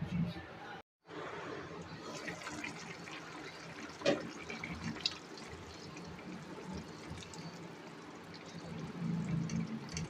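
Water is poured into a pot of potato and egg curry, a steady close pour and splash that runs for several seconds with a brief break near the start.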